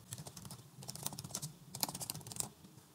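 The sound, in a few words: typing on a computer keyboard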